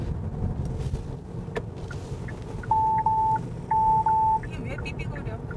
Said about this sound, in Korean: 이게 왜 삐삐거려? 뒤에 차가 오는데 깜빡이를 했다고.